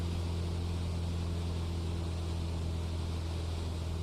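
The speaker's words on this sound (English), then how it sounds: "We're over revving just a touch here, team." Steady, droning aircraft engine in Microsoft Flight Simulator, over-revving slightly, a constant loud hum with strong low tonal bands and no breaks.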